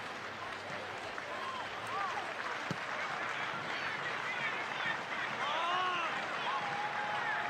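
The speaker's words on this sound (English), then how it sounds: "Crowd cheering on the Rowdies here." Stadium crowd at a Tampa Bay Rowdies versus South Georgia Tormenta FC soccer match cheers and applauds in a continuous roar, with a commentator talking over it.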